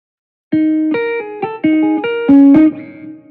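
Electric guitar chords played through a crunchy amp simulation with an overdriven tone, several strums ringing out in sequence with reverb-tinged sustain.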